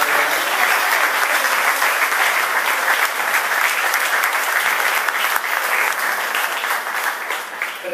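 Sustained applause from a crowd at a Marsala football club event, a dense steady patter of many hands clapping that continues throughout and tapers slightly at the end.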